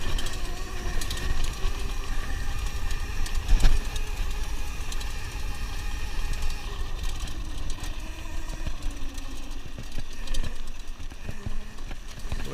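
An electric vehicle motor on a Kelly KVD controller runs at full throttle, a steady drone with a faint whine, holding even and fairly quiet throughout.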